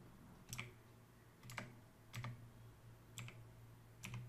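Keys on a computer keyboard are pressed one by one, five quiet separate clicks spaced about a second apart against a faint background hum.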